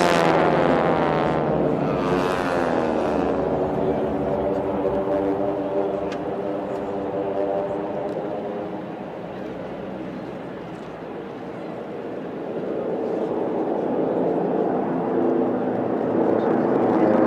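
A propeller air racing plane with an R1340 radial engine at about 3,000 RPM drones loudly overhead at the National Championship Air Races, a steady throbbing roar that dips slightly as it passes and then swells again.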